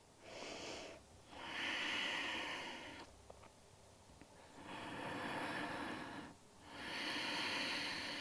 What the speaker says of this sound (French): Encore 3 profondes respirations.